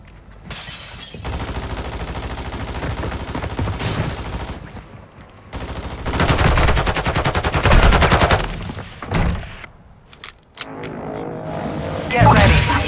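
Heavy gunfire from the Call of Duty Modern Warfare 2 video game, loud sustained automatic bursts and booms layered over one another, with shouted voices in between.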